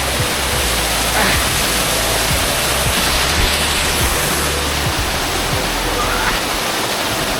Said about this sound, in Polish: Idę teraz tu w stronę tego wodospadu, spróbuję, bo tu jest chyba głębiej.